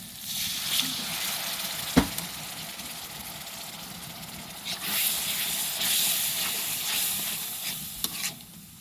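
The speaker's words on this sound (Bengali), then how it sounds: "এখন আর একটু পানি দিয়ে কষিয়ে নেব" River shrimp sautéing in a pan after a little water is added, giving a quiet, steady sizzle with soft stirring scrapes and a sharp knock of the spoon near the start.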